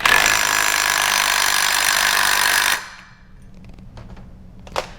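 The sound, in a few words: drill tightening trimmer blade nut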